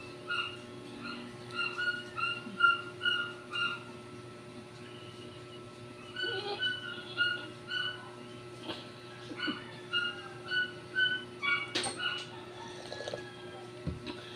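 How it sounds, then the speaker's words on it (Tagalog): A dog barks steadily in a neighboring alley, faint repeated yaps in a regular rhythm over a constant background hum. "Yung ingay doon ng aso na doon sa kabilang iskinita."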